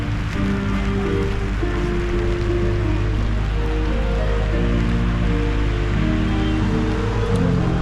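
Rain falling steadily with a dense, constant hiss and patter, alone and loud throughout, mixed with a low droning background hum.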